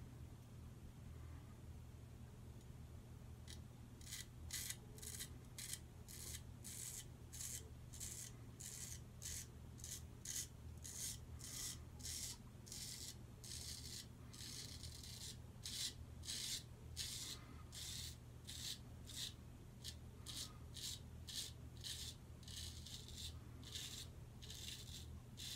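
Hollow-ground straight razor shaving through stubble in a 1920s-style barbershop, a rapid series of crisp rasping strokes in quick rhythm, close and clear over a quiet low hum.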